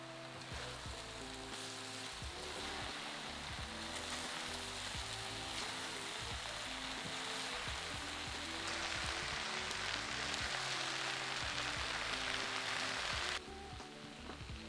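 Beef, noodles and five thinly sliced spring onions sizzle in a pan for teriyaki noodles, a loud, continuous close-up crackle that holds steady throughout and drops away near the end.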